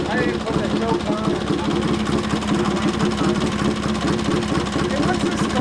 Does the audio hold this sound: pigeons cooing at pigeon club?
no